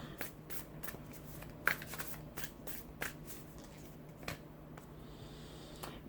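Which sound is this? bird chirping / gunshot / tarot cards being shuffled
tarot cards being shuffled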